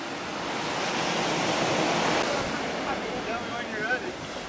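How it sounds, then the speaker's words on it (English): Big ocean waves at Jobos Beach, Puerto Rico, give a steady, full roar of breaking surf that swells slightly and stays loud throughout, with wind noise and a faint voice toward the end. "Got some big waves."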